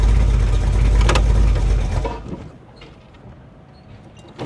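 A car with a failing transmission rumbles loudly and rattles at close range for about two seconds, then the engine cuts out and the sound drops to a faint, quiet background.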